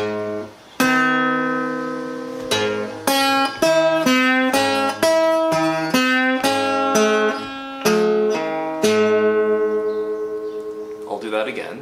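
Acoustic guitar playing a blues piece with an alternating bass: a rhythmic sequence of plucked chords and bass notes, close and clear, with a steady picking pulse for about eleven seconds and no talking.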